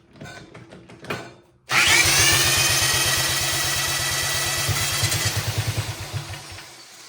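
Small engine of a Wheel Horse RJ 58/59 lawn tractor cranking in short bursts, then catching and roaring loudly, running unevenly with a stuttering, popping rhythm before tapering off, close and alone, with a carburetor fault.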